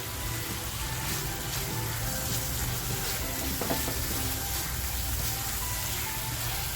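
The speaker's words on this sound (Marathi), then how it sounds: "आपल्याला तेल सुटेपर्यंत आहे ना हा मसाला असा छान फ्राय करून घ्यायचा" Masala for smoky paneer masala fries in oil while being stirred, a dense, continuous close sizzle that holds steady, with no one talking.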